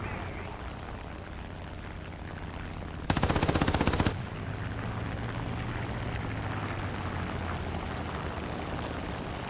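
Machine gun fire from an enemy plane in the War Thunder air combat game, a single loud rapid burst of about one second cutting through steady engine drone, with no talking.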